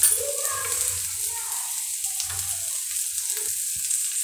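Onions frying in a pan for egg idli upma, a soft sizzle close by with faint stirring touches and low murmurs, the crackle thin and steady over a few seconds.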